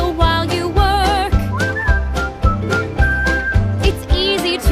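A bright whistled melody from Snow White (2025) carries over a bouncy musical accompaniment, the tune wavering and sliding between notes at a steady, lively pace.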